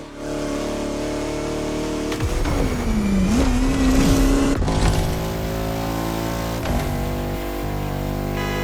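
A Bugatti La Voiture Noire, a tribute to the all-black Type 57 SC, in The Crew Motorfest racing game, its engine droning steadily then revving up and shifting gears, loud and continuous with no talk.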